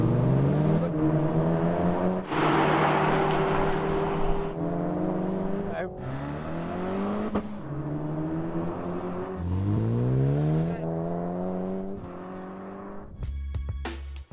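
Hot hatches including a Peugeot 308, Seat Leon and Honda Civic accelerate hard in third gear from 50 mph in a drag race, engines climbing in rising pitch with gear-like surges, while a voice talks over them.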